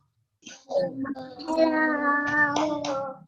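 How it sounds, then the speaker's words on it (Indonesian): A first-grade class on a Zoom lesson performs the 'tepuk spirit' clapping chant, rhythmic hand claps mixed with children's voices chanting along, moderately loud and continuous after a brief silence. "tepuk spirit dulu ya, agar semangat dulu"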